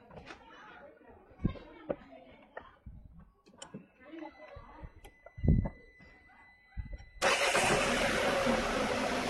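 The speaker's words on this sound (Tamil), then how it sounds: "இன்ஜின் ஸ்டார்ட் பண்ணாதான்" A Renault Triber car engine cranks and catches at the end, settling into a loud steady idle after a stretch of ticking, clicks and someone talking in the foreground.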